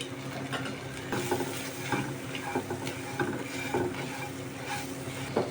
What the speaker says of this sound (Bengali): সব একসাথে ভালো করে ভেজে নিয়েছি